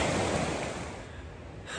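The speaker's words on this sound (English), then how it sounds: "here's our water source flowing very strong. Whitney Creek" Whitney Creek, a mountain stream at a basecamp below Mount Whitney on the Pacific Crest Trail, rushes strongly in a close, steady broadband wash of flowing water with no voices.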